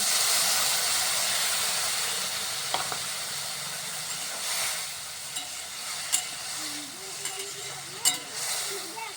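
Tomato and spices fry on a clay stove, giving a steady, loud broadband sizzle and hiss throughout, with occasional stirring clinks and scrapes punctuating it.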